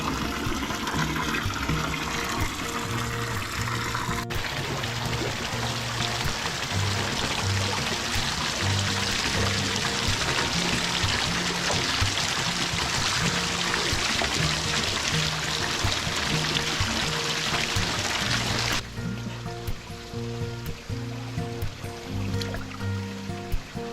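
Cold river water pours steadily and loudly into a container at a natural hot spring, a dense continuous rush that holds for the whole stretch and shifts tone slightly as the vessel fills.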